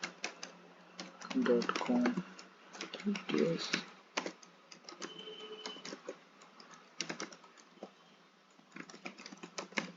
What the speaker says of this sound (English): For this video I am going to type https github.com